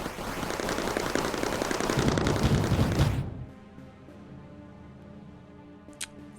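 Cyclone turrets in the Mindustry video game fire fragmentation ammo in a dense, rapid barrage of cracking bursts for about three seconds, then cut off into a quiet hum with one faint late pop.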